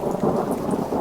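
Steady rain in a storm with low thunder rumbling beneath, a dense continuous wash of drops that stays even and close throughout the short stretch.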